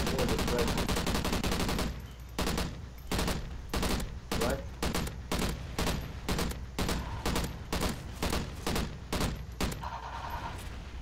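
Rapid gunfire in the shooter Call of Duty Ghosts: after a dense opening burst, a long, fast string of loud, evenly spaced shots rattles on, mostly alone with little talk.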